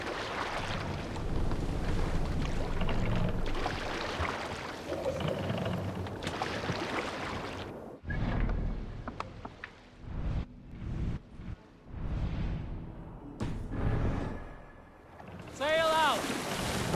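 Viking longship at sea in Assassin's Creed Valhalla, with wind rushing and waves washing around the hull, loud at first, then gustier with broken surges and a brief voice near the end.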